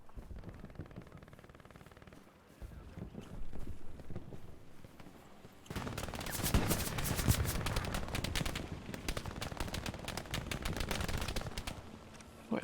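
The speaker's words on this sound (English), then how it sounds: "What MG is that?" Machine gun fire in the video game Hell Let Loose: a quieter stretch of scattered shots, then dense, loud bursts of rapid automatic fire crackling continuously for several seconds, with no one talking.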